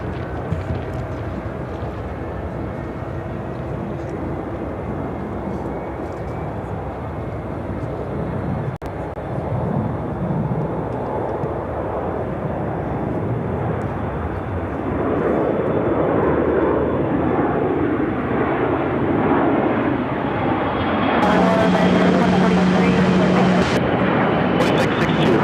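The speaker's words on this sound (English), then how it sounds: "This is a Bombardier Global 6000 taking off." A Bombardier Global 6000 business jet takes off at Chicago O'Hare, a steady, distant engine rumble swelling louder toward the end, with a voice talking at points.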